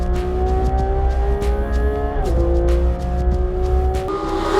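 A Porsche 991 GT3 RS is driven hard on a racetrack, its engine loud and close with a steady high-revving howl that dips sharply as the car shifts weight through a corner, then climbs again.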